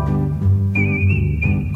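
A person whistles on a television broadcast, producing a thin, steady whistled tone over a low music bed, close and clear, lasting under two seconds.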